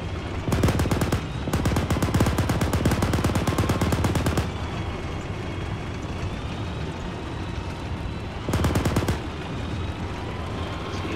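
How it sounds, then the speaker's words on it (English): A Shilka anti-aircraft gun fires in ArmA 3, with two long, rapid, loud bursts back to back and a shorter burst later, each a dense crackle over a steady rumbling background and no talk. "Based on that burst size, it's definitely a Shilka."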